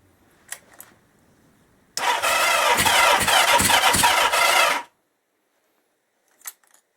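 A 1977 Kawasaki KZ650 motorcycle engine cranks on the starter for about three seconds, a loud rapid whirring churn that fails to catch and cuts off abruptly, with faint clicks before and after.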